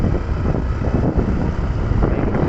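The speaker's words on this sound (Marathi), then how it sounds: "तुम्हाला नेटपणे येईल नाही कारण की वारा खूप वेगाने सुरू असतो" Strong wind buffets the microphone during a fast motorbike ride, a continuous loud low rumble with no speech.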